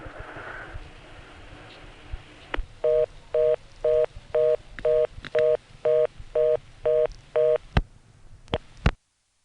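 A recorded telephone line from a 1976 Manassas, Virginia step-by-step exchange plays a sequence of about ten evenly spaced two-tone beeps, each short and clear. A recorded operator-style intercept message comes just before, and faint clicks follow the beeps.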